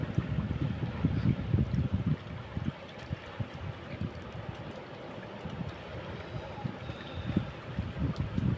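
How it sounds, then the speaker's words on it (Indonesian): Strong wind buffeting the microphone on Batu Kalang beach at Tarusan, a steady low rumbling roar with gusty surges throughout and no clear talk. "Anginnya kencang banget"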